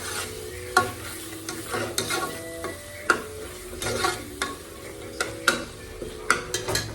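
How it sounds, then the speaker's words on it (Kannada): Masala for a mutton gravy frying in a pan, a steady sizzle broken by frequent sharp clinks and scrapes of a spoon stirring against the metal, close and fairly loud, with no talking. "ಒಂದೆರಡು ನಿಮಿಷ ಫ್ರೈ ಮಾಡ್ಕೊಬೇಕು ಫ್ರೈ ಮಾಡಿಕೊಂಡ್ರೆ ಟೇಸ್ಟ್ ಅನ್ನೋದು ತುಂಬ ಚೆನ್ನಾಗಿ ಬರುತ್ತೆ"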